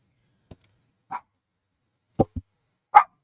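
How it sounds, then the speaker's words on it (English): A dog gives a few short, sharp barks spaced apart, one quick double bark among them, fairly faint in an otherwise quiet room with no talk. "sorry about the dog barking."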